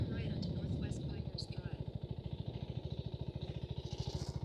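KTM Adventure R 2026 motorcycle riding at low RPM with quick shifter, a steady pulsing engine thump throughout, with someone talking over it at the start.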